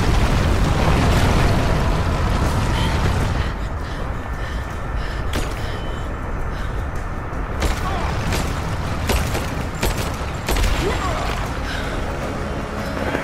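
An explosion in the Rise of the Tomb Raider video game bursts out as a loud, rumbling roar that fills the opening seconds, followed by crackling debris, creaks and scattered booms under excited talking.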